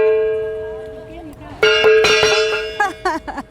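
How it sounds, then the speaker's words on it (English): A gong struck during Chinese New Year celebrations in Beijing. A steady metallic ring gives way to several sharp, loud strikes in quick succession, each with a bright, shimmering decay. "when you sound the gong, lots of good fortune"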